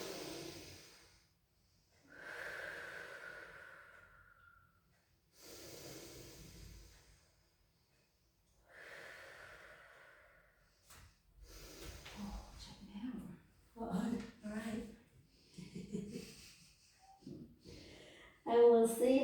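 Slow, deep breaths drawn in and let out during a pilates session, several long inhale-exhale cycles with gaps between them, followed by quicker, choppier breathing or talk near the end.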